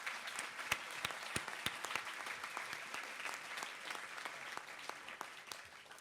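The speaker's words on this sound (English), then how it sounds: "A round of applause to our laureates and to Mr." At a Junior Achievement Hall of Fame event, an audience applauds the laureates with steady, fairly faint clapping and a few sharp individual claps standing out, heard from a distance.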